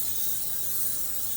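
Pam cooking spray hissing from an aerosol can onto a baking pan, one continuous soft spray lasting a second or so, close and fairly quiet.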